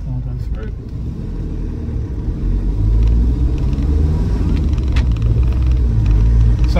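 Land Rover Defender 110 XS utility wagon with the 2.2 TDCi diesel engine running steadily while driving, a continuous low rumble that grows slightly louder partway through, with faint knocks and rattles over the road.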